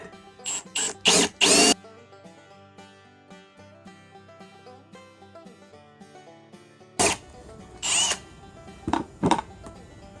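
Several short, loud bursts of a power drill whirring, in clusters at the start and again near the end, over steady background music.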